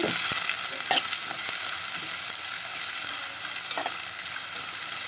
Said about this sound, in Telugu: కొంచెం ఫ్రై అవ్వనివ్వాలి